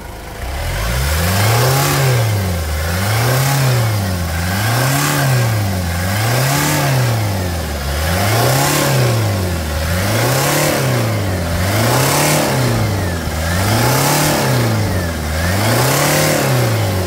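A 2003 Toyota Land Cruiser Prado diesel engine revving in a steady repeated cycle, climbing and falling in pitch about a dozen times, loud and close with no voices.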